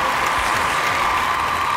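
A studio audience on a Chinese antiques appraisal show applauds to welcome the panel of experts; dense, even, continuous applause that stays loud for the whole span with no voices over it.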